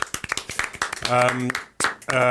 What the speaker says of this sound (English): A little round of applause.